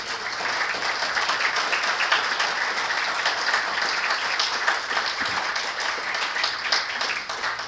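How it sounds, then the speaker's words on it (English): At a Rotary Club annual banquet in Louisville, Ohio, the audience gives board members a long, steady round of applause, dense and even throughout with no speech. "Give them a round of applause."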